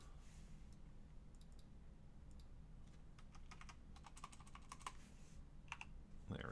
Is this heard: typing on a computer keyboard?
yes